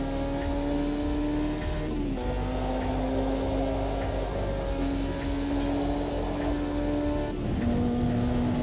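A race car laps Silverstone in Automobilista 2, its engine droning steadily at high revs with brief dips at gear changes. The sound runs close and continuous with no talk.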